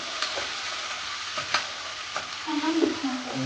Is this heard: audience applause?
no